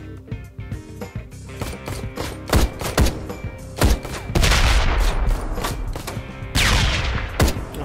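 Gunfire in the biker game Ride to Hell: Retribution: a scattered string of loud single shots that thickens into rapid overlapping bursts and heavy impacts, close and punchy, with little talk.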